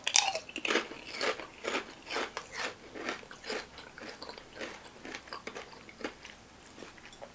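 Crunchy biting and chewing of a chili cheese Fritos flavored Lay's kettle cooked potato chip, a steady series of close, crisp crunches repeating over several seconds with no talk.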